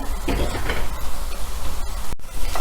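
Cumin and ground garam masala roast in a pan for a dhaba-style paneer masala, giving a steady close sizzle with scraping stirs throughout and a brief dropout near the end.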